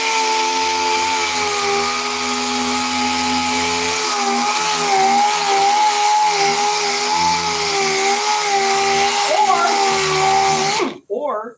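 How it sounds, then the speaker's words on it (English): A power sander works steadily over the body of a yellow Dodge car, a loud continuous whine holding nearly unbroken for several seconds before cutting off abruptly at the end. "Lou says you're sanding all wrong."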